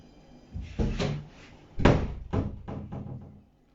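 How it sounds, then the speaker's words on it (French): A door, probably a cupboard or room door, is handled and closed: a few knocking thuds and bumps, one louder clack in the middle, heard close by with no talk. "Ferme-moi la porte, je ne viens plus."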